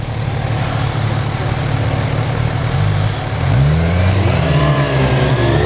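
A 2015 Kawasaki Z1000 motorcycle engine runs steadily nearby, its pitch rising and falling as it revs up partway through.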